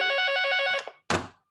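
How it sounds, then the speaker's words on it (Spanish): A telephone rings with a rapid trilling electronic bell for almost a second, then cuts off, followed by a short clunk of the handset, close and clear with no talk. "Voy a quitar el teléfono"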